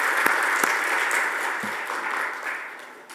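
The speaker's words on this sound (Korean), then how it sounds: "우리 저분들 위해서 박수 한번 해주실까요?" A church congregation claps together in sustained applause, steady and fairly loud, tapering slightly toward the end.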